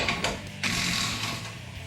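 An impact wrench spins out the front bumper bolts on a Jeep Gladiator JT, giving a loud, close, continuous mechanical rattle with a few sharper bursts near the start, heard alone without talk.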